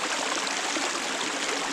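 Cold creek water rushes at a mountain bike creek crossing in the snow at Liberty Reservoir, Maryland, a close, steady broadband flow without pauses.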